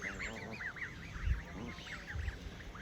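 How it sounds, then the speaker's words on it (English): Geese and goslings by a riverbank give a steady run of soft, repeated honks at moderate distance, overlapping one another with low background rumble. "Oh, look at the cute little geese."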